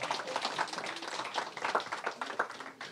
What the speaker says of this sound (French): Est-ce qu'on peut applaudir Dieu?